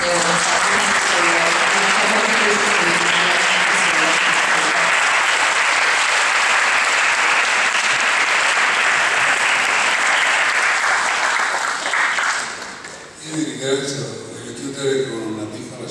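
A film festival audience honouring Gianalberto Bendazzi breaks into loud, sustained applause filling most of the moment, then it dies away as a voice begins speaking.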